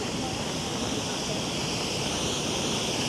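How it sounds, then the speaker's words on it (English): A small waterfall in Isafjordur, Iceland, pouring in a steady, dense rush of falling water heard close, with no change in level and no voices over it. "Let's go over and look at another waterfall that's a smaller one"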